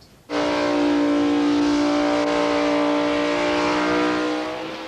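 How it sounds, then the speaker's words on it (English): A 600 horsepower super gas drag racing car engine at a drag strip fires up abruptly and holds a loud, harsh, steady roar close by, tapering slightly at the end, with no talk. "this 600 horsepower super gas car. Now that sounds a bit more like it."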